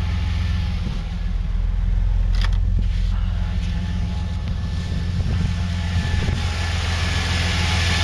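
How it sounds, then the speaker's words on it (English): A low, steady engine idle of a 1999 Chevy S10 pickup truck rumbles continuously, close by, with a few faint clicks and rattles over it. "you can hear the way the engine is idling at this."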